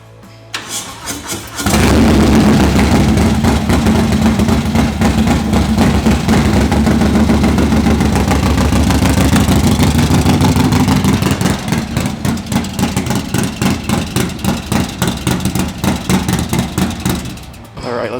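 A Harley-Davidson Lowrider ST motorcycle engine catches and settles into a loud, close, throbbing idle, then shifts to a choppy pulsing rhythm toward the end before cutting down.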